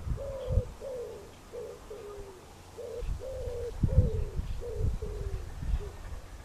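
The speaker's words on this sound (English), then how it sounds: "If I had a lapel mic, you wouldn't be able to hear that pigeon." A pigeon coos outdoors beside a fishing stream in a steady run of repeated soft hooting phrases, clear and fairly close over low wind rumble and handling thumps.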